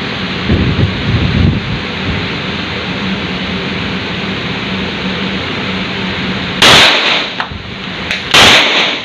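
Gunfire at a shooting range: two sharp, loud shots ring out near the end after several seconds of windy, rumbling outdoor background.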